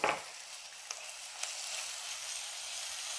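Green chillies, ginger and shallots frying in a pan with curry leaves, a soft steady sizzle with a few faint stirring clicks, quiet and close.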